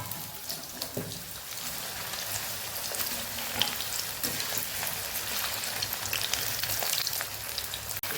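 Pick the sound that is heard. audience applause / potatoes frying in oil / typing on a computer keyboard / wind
potatoes frying in oil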